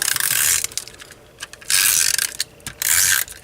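A Stampin' Up snail adhesive tape runner is pulled across cardstock in three quick strokes, each a short, close, crisp ratcheting whir, separated by brief quiet pauses.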